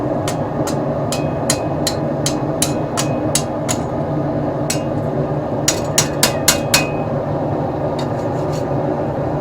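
Sharp metallic hammer strikes on a seax knife blade ring out in quick bursts and irregular clusters over a steady background hum, close and crisp.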